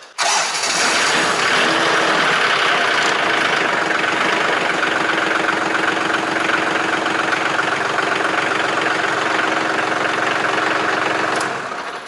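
A Daedong tractor engine runs at idle right after starting. It makes a steady, loud, close mechanical drone that continues without break for about twelve seconds, with no voices.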